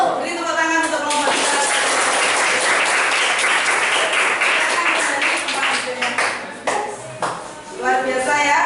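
Sustained clapping from a class after a group's discussion presentation, dense and steady for most of the span, with voices of a teacher and students talking over the start and end.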